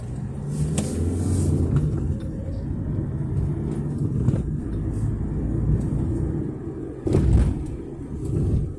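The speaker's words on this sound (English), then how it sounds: "A tiny little car with a normally aspirated diesel engine in is fun." Steady low interior rumble from a Peugeot 205 GLD with a small naturally aspirated diesel engine, heard from inside the cabin while driving, with a louder bump near the end.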